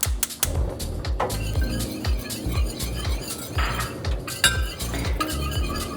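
Cocoa powder, sugar and a pinch of salt being stirred together in a bowl for homemade hot chocolate, heard as steady clinking and scraping of a utensil against the dish, close and moderately loud with no talking.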